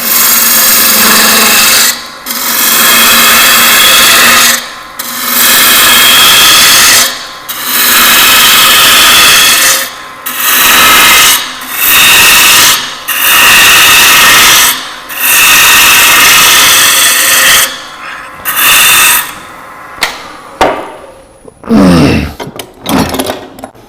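A wood tenon being whittled down at a woodworking club meeting, with repeated rough scraping and rasping strokes in bursts separated by short pauses, loud and close, ending with a few scattered knocks.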